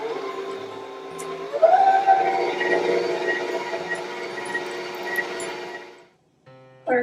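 An electric mixer beating cake batter on high whirs loudly and steadily, its motor pitch rising as it speeds up, then cuts off abruptly near the end.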